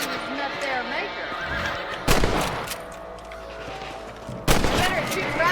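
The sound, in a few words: rifle shots at rabbits in video game Red Dead Redemption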